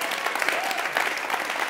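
A live audience at a talk event in Los Angeles applauds, producing a dense, steady patter of clapping that fills the whole short stretch at an even, moderately loud level, with no break.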